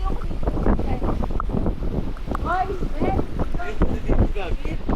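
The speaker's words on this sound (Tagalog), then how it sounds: "So, ang lakas ng hangin." Strong wind buffets the microphone with a constant low rumble on Masasa Beach in Tingloy, Batangas, while several people talk and shout over it nearby.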